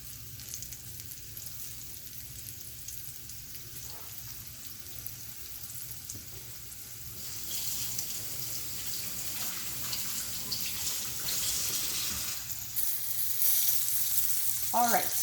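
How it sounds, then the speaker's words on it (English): Chicken pieces for honey garlic crispy chicken deep frying in hot oil, a steady dense sizzle that swells louder and brighter partway through, with a few faint clinks and no talk. "we're gonna go ahead and put these babies in to fry."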